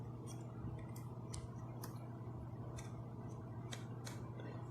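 Neck adjuster on an EPOS C1 USB-C mono headset stepping through its positions, a quiet series of about a dozen sharp plastic clicks in an uneven rhythm over a low hum.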